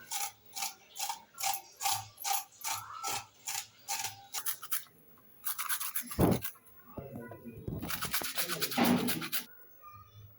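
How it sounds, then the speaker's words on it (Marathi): Carrots are grated by hand for carrot halwa, a rhythmic scraping of regular strokes up close, followed by a pause and then faster, denser rasping bursts. "चला तर आपण आता गाजर किसून घेऊया."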